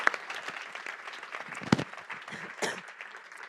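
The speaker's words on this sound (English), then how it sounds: "Big applause." A summit audience gives a panel a round of applause, a moderate burst of many hands clapping together, fairly close and dense, lasting a few seconds with a few louder individual claps.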